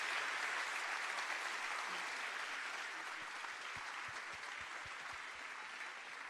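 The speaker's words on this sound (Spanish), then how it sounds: "fuerte aplauso para ellos" An audience at a commemorative event honouring China Zorrilla gives the guests a strong round of applause, a steady, dense roar of clapping that holds evenly for about six seconds with faint low thumps near the end.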